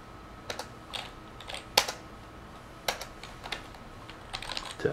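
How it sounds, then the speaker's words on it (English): Keys clatter on a computer keyboard in quick, irregular bursts of clicks at close range while a message is typed, with no voices. "And let's type a message."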